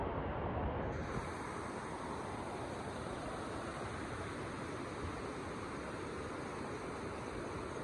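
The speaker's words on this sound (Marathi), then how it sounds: "इथं पण धबधबा आहे बा." A waterfall near a village farm gives a steady, loud broadband roar, close and constant from start to finish with no voices over it.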